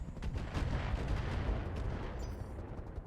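Weapons fire in the RogueTech mod of the BattleTech video game rumbles in dense, continuous low booms and crackles, heard faintly at a distance.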